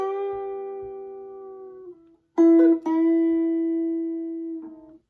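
Guitar melody for a song, with a long sustained plucked note, a short pause, then a quick cluster of picked notes and another held note, sounding close and clean with no talking.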